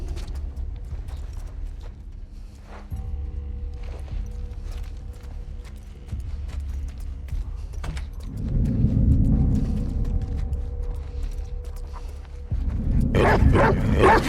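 A dog barks several times in the video game The Last of Us Part II, the barks coming in bursts over a low, steady background rumble.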